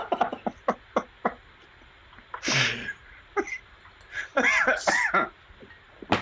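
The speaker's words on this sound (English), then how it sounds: "See, he's coughing." A man coughing off to the side during a live sideshow performance: several short dry coughs in a quick series, then longer harsher bursts and throat clearing, fairly close in a quiet room.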